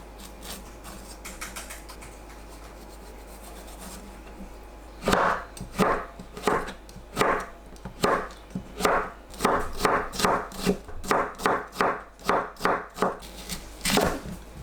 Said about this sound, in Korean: 오이를 가운데 씨 제거하고 잘게 썰어주세요.